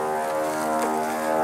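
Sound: propeller airplane flying at an air show

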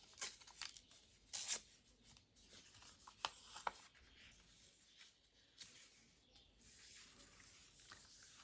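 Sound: tearing paper

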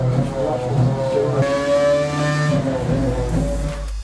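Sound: current Formula 1 race car engine under new regulations

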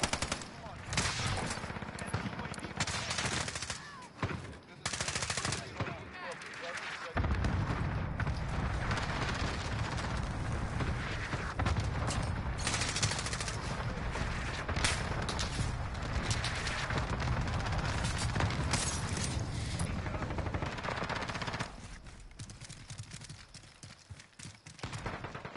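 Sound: gunshots from the FiNN gun in a video game

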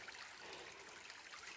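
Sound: small stream of water flowing

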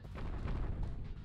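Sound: explosions in the video game Rogue Rising

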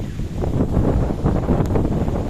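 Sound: strong wind

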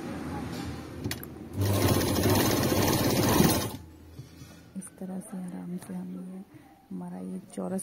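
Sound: sewing machine stitching woolen kurti neck

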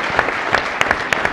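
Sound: audience applause for a panel

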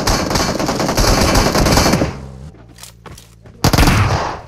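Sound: gunfire in a shooter video game

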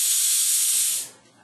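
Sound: spray sound from stretched open hi-hat

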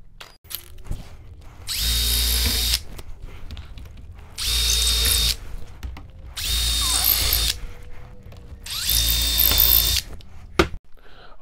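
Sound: drill pre-drilling through wood

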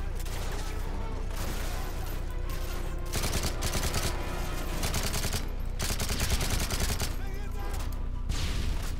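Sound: enemy gunfire in Call of Duty: Modern Warfare 3 video game

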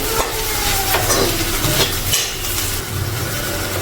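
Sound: stirring ivy gourd (dondakaya) fry with chilli powder in pan

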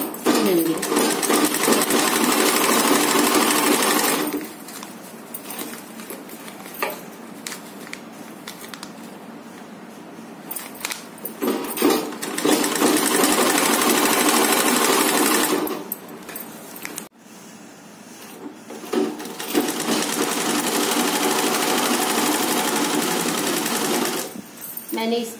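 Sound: sewing machine stitching bag pieces together

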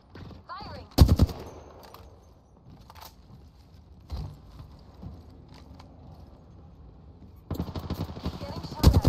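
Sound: gunfire, from video game Apex Legends

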